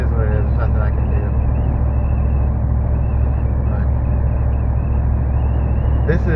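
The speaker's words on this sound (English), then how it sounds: "this is cruising at 70, so I mean, you can hear the drone, and it's not that bad." A 2014 Ram 1500 with the 5.7L HEMI, resonator deleted and a tubular muffler, cruises at 70 with a steady low exhaust drone and road noise inside the cab, wind whistling, while someone talks over it.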